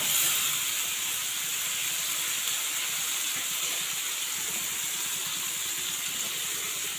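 Beef brain dropped into a hot pan, producing a loud, continuous hissing sizzle that starts at once and holds steady to the end, with no voices.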